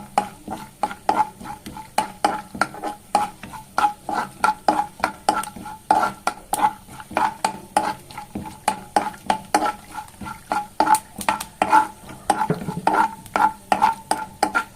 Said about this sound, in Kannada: ಇದು ಸ್ವಲ್ಪ ಕಲರ್ ಚೇಂಜ್ ಆಗೋ ತನಕ ಹುರ್ಕೊಳ್ಳಿ